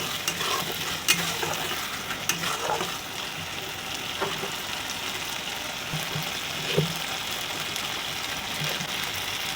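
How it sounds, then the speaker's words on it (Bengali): Soaked raw chickpeas tipped into a hot pan with a little water, bursting into a steady, loud sizzle that holds throughout while a spoon scrapes and stirs at intervals. "এবারে দিচ্ছি আগের থেকে ভিজিয়ে রাখা কাঁচা ছোলা"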